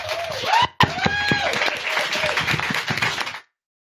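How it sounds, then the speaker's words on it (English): Audience clapping and cheering for the women just introduced at a live talk event, loud steady applause with some voices mixed in, then cutting off abruptly. "please give it up one more time for these amazing women"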